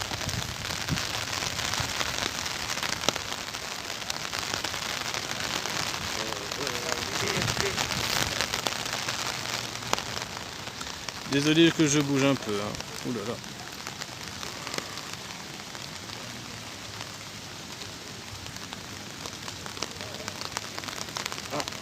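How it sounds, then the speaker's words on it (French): Heavy rain pours during a thunderstorm at Blue Bay, Mauritius, a steady close hiss of drops that continues for the whole stretch, with someone talking and a brief louder burst partway through. "Quand il pleut à l'île Maurice"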